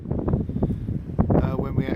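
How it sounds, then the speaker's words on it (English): Wind buffets the microphone outdoors in France on a sunny day, low uneven rumbling while a person talks over it. "Unfortunately it's very windy here"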